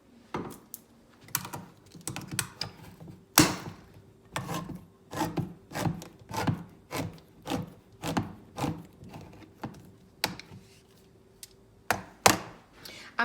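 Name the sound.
can opener opening a can of chickpeas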